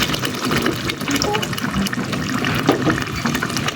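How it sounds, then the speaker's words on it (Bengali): Coconut milk is poured from close by into fried spice paste in a pan for a village chicken curry, making a continuous liquid splashing and gurgling over soft background noise. "আমি এখন এর মধ্যে এই নারিকেলের দুধটা দিয়ে দিব"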